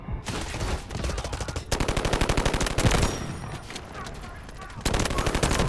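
Rapid automatic gunfire from a shooter game, Delta Force Mobile, with an AK-12 rifle firing dense bursts of close, loud shots that run almost continuously, separated by brief pauses.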